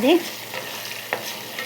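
Herbs and leaves cook in hair oil in a pan, a soft steady sizzle after a brief squeak at the start, with one faint clink midway; no voices.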